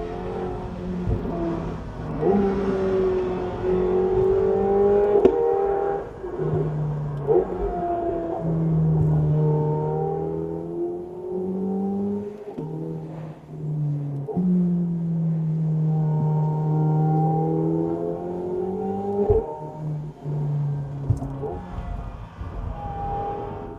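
A McLaren 750S sports car engine is heard from inside the cabin while driving, its loud, sustained drone rising and falling through revs and gear changes over roughly twenty-four seconds.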